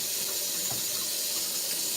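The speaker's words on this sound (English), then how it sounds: "So that's when you add a bit of water" Water runs steadily from a tap into a sink, a constant close hiss and splash with no other sounds.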